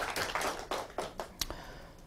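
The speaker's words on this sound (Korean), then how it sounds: "주님께 감사의 박수 드립시다." A small group claps briefly in thanks at a Catholic lecture, a handful of scattered, uneven claps that fade out within about two seconds, close and fairly quiet.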